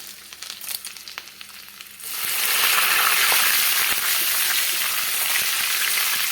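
Dried red chillies, curry leaves and chopped garlic drop into hot oil and burst into a loud, steady sizzle after a couple of seconds of quieter kitchen clatter, continuing close and unbroken to the end.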